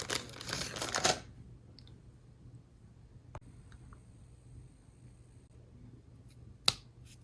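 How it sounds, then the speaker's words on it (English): A drinking straw is cut in half, heard as a rustle of handling at first, then two sharp, separate snips amid quiet room tone. "we're going to take a straw and we're going to cut that in half"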